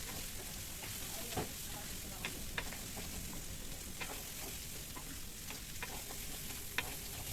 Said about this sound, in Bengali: দিয়ে আবারও ভালো করে নেড়ে চেড়ে ভেজে নেব